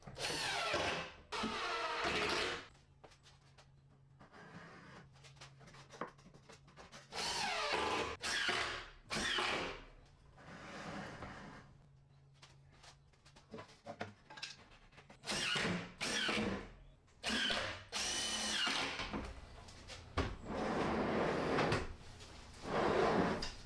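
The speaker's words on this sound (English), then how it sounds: "you attach the screws on the glides, moving both the panel and the shims simultaneously as you install the glide screws" A power driver runs screws into cabinet drawer glides on a French cleat organizer, giving repeated loud bursts of whirring separated by brief pauses and handling clatter.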